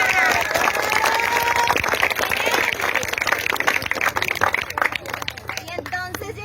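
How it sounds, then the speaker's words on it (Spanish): Crowd at a school-desk donation event claps and cheers, dense applause mixed with voices and children, tapering off toward the end as talk takes over. "Así que también se merece un aplauso."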